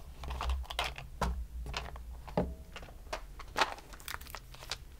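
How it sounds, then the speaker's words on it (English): Fantasy dice are rolled for a tarot reading, making a quiet run of small, irregular clicks and clatters as they tumble and settle, with no talking. "we're rolling the first set of dice for you,"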